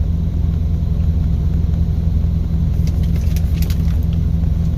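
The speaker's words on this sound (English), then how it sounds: "It's just the truck's vibrating a little bit." A parked truck idles with its engine running, a steady, loud low rumble and vibration throughout, with a few faint clicks and rattles near the end.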